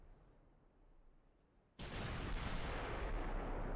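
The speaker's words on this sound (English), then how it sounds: "First salvo is not going to be that good" A naval gun salvo in Ultimate Admiral Dreadnoughts bursts in suddenly after a quiet stretch, a loud broadband boom that holds as a sustained rumbling roar through the rest of the moment.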